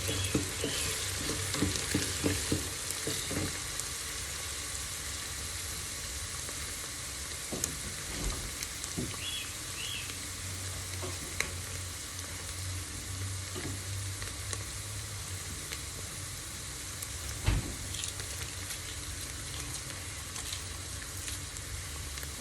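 Onions sizzle and crackle as they are sautéed in a hot pan, a constant frying hiss with occasional stirring scrapes and clicks, close by.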